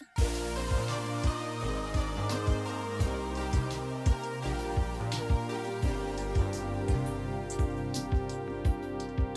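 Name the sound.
layered DX7 synthesizer lead melodies in different octaves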